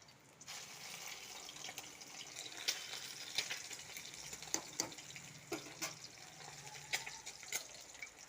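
Egg frying in a pan, a soft continuous sizzle broken by irregular sharp crackles and pops, fairly quiet and close, with no voices.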